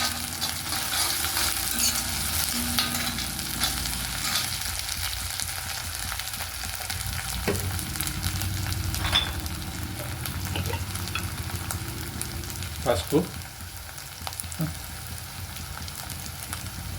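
Onions frying in a pan for ponnaganti (dwarf copperleaf) greens curry give a steady, close crackling sizzle. A few brief scrapes and clinks break through near the end, with no talk.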